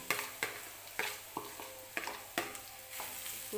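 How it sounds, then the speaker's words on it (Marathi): A spoon stirs a spiced potato mixture for bread pakoda in a pan, scraping and clacking against the metal in a steady rhythm of about eight strokes, up close, with a soft sizzle underneath. "परत छान असं मिक्स करून घ्यायचं आहे"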